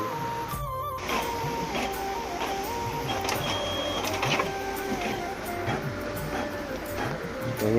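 Continuous whirring and clattering of a running printing machine as pages print, a steady mechanical drone with repeating clicks and a few sharper knocks, close and moderately loud.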